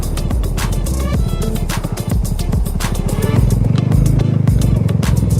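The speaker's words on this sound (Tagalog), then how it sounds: "Gamit natin motor itong Suzuki Bergman 400." A Suzuki Burgman 400 scooter engine drones steadily while riding, with road and wind noise and a rise in engine pitch toward the end.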